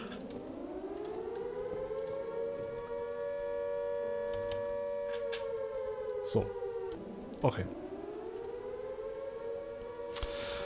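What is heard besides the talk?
siren switched on in the video game Minecraft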